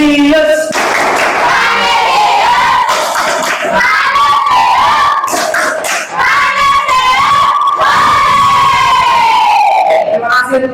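A class of students stands and performs a loud group clapping chant together, voices shouting and chanting in unison with rhythmic claps throughout, energetic and close.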